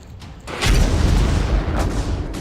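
Russian shelling strikes Irpin: a deep, heavy boom erupts and rolls out into a long, rumbling low roar with a second thud within it, loud and distant-sounding, with no voices.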